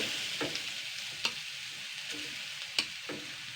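Whole cumin seeds fry in hot oil with a soft, steady sizzle and a few faint stirring clicks, quiet and close with no talking.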